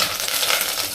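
Cumin, mustard seeds and curry leaves frying in hot oil, a dense, steady sizzle with faint crackle, loud and close, with no voices.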